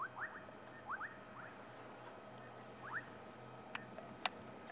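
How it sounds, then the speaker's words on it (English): A tiny dwarf puddle frog calling at dusk in the Sabi Sand bush, a faint insect-like chirping in short repeated bursts over a steady high cricket drone. "a dwarf puddle frog"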